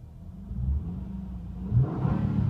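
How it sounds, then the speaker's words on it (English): A 2009 Honda Accord EX-L V6 coupe with about 60,000 miles idles with a low rumble, then the engine revs up briefly near the end, close and alone without talk. "I'll give you a little rev of the engine too."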